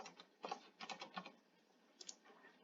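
Coding on a computer keyboard, a short run of close, soft keystroke clicks in small clusters with brief pauses, quiet and with no voices.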